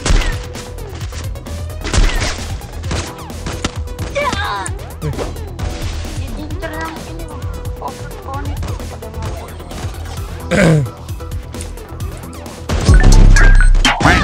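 A bomb goes off in the Free Fire battle-royale game, a loud, heavy low blast near the end that follows a stretch of scattered gunfire and impacts, with players talking over the action throughout.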